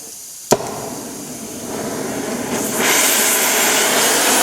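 A torch heating a seized VW brake caliper slider casting, to soften the rust: a sharp click like an ignition, then a steady hiss and roar that thickens into a louder, broader rush about two seconds later.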